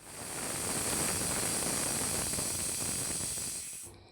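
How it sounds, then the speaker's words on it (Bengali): Fish frying in oil in a home kitchen pan for a mixed-vegetable fish curry, a steady loud hiss of sizzling oil running unbroken for about four seconds before cutting off abruptly. "এদিকে দেখুন, আমাদের তরকারির মাছ ভেজে নিচ্ছি।"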